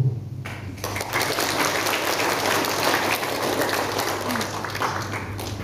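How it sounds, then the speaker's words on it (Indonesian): Dense, sustained applause from hundreds of attendees at an outdoor political rally, a steady roar of many hands clapping at once that swells after a brief quieter start and carries on without talk. "bilang HH disambut tepuk tangan ratusan hadirin yang hadir"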